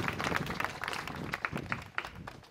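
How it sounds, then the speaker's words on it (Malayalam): An audience claps at a film launch puja ceremony, a brief burst of scattered, uneven handclaps that comes from nearby, heard alone without talk. "ഇതിന് ഇന്നത്തെ ദിവസം കൈയടി കൊടുക്കാം, നല്ല കൈയടി"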